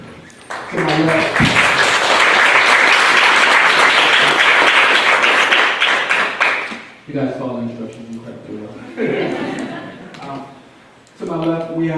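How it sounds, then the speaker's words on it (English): A steady round of applause from an audience welcoming a panel at a talk on racial wealth data, dense and sustained for about six seconds before fading, with voices speaking between and after the clapping. "help me in welcoming our panel with one round of applause once everyone is seated"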